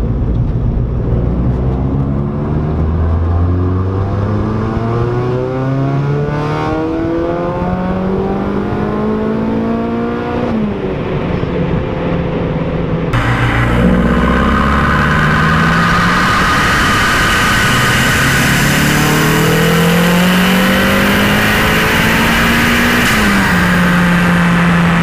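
A car revs hard through repeated acceleration pulls for street tuning, the engine note climbing steadily in pitch through the gears, dropping back and rising again across two loud, close runs with no talking.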